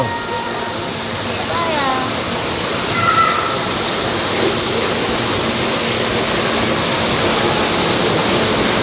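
Water waves sloshing in a science museum exhibit at Gwacheon National Science Museum, a loud continuous rushing wash with brief squeaky tones early on.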